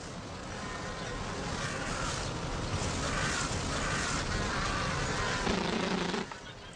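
Honeybees drone in a dense, continuous buzz at the hive, fairly close and steady throughout with no voices.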